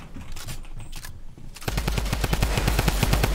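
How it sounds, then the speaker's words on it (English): Rapid automatic gunfire in the Fortnite video game bursts in loud and close after a quieter stretch, a fast regular string of sharp shots that continues to the end, with no talk over it. "there's another guy shooting me from the top"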